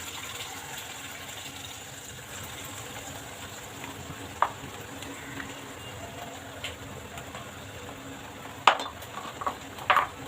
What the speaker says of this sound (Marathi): छान परतून घ्यायचं आपण.